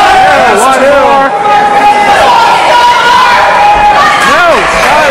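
A wrestling crowd at an FPW heavyweight championship match cheers and chants loudly throughout, with rising shouts and whistles from the audience.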